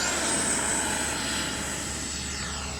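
A model L-39 jet, an RC FlyFans Black Diamond, takes off with flaps set, its ducted-fan engine whining at a high, steady pitch with a continuous rushing roar, fairly near and loud.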